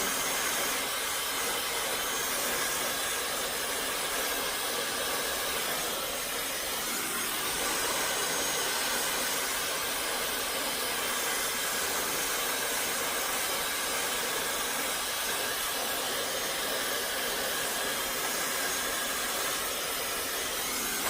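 A hair dryer blows hair dry, giving a loud, steady rushing hiss that runs unbroken for about twenty seconds, close and alone with no voices.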